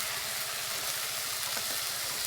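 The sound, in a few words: spice paste added to onions and tomatoes frying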